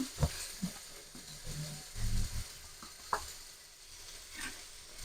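Eggplant and spinach greens sizzling in a pan while being stirred, with soft scraping strokes and occasional clicks of the spoon against the pan, close and steady, no talking.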